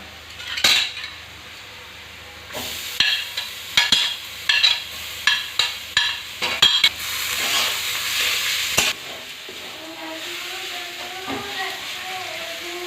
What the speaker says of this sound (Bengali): পেঁয়াজ ভাজা হয়ে গিয়েছে, এবারে দিয়ে দেবো রসুন বাটা।